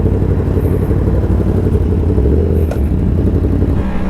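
Motorcycle engine held at open throttle while riding over a potholed, bumpy road, a loud steady drone with rattling clatter throughout, no talking.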